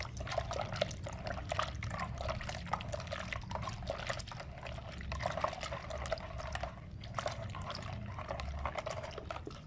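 Warm water is poured close by, a continuous splashing trickle with small drips and gurgles rising and falling, and no voices.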